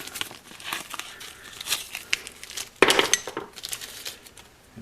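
Plastic packaging around a new O-ring for a 1973 Honda CB750 clutch being cut open, a close run of crinkling and crackling with a sharp rustle and snip partway through, no talking.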